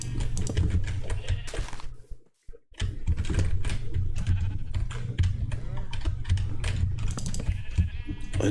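Sheep bleat in a video game world, several short bleats close by among the game's ambient noise and clicky keyboard-like tapping, with a brief pause partway through.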